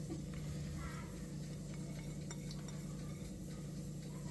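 A spoon stirring shark meat and grated coconut in a pan, giving soft scraping and light clinks over a low sizzle, close and quiet, with no speech.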